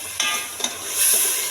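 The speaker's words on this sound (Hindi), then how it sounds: "इसको अच्छे तरीके के साथ जो है वो 2 मिनट तक आप फ्राई कर लें" Peas fry in a masala for mixed vegetables, giving a steady hiss with a couple of stirring scrapes and a brief swell of sizzle near the end, close and with no voices.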